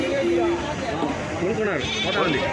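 Sheep bleat repeatedly, mixed with goats, at a busy Saturday livestock market for sheep and goats, with crowd chatter and people talking throughout.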